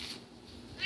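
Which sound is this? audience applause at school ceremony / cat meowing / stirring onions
cat meowing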